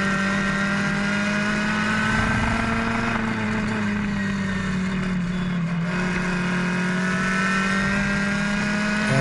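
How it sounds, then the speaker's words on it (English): Race cars roar steadily at a New England racetrack, one continuous loud engine drone with a shifting pitch as cars pass and hold speed, and no voice over it. "Kenny Johnson's passed both of them, and he's off"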